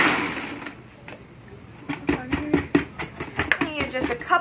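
A kitchen blender crushes whole ice cubes for a strawberry smoothie, starting with a few clunks, then rattling and grinding in rapid, uneven bursts that grow louder.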